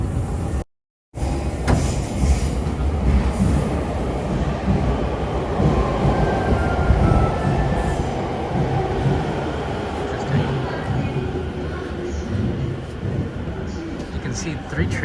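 Trains on Tokyo's Chuo Line heard as a continuous loud rumble and rolling rush with faint high squeals, steady throughout apart from a brief cut near the start, with talk blended in.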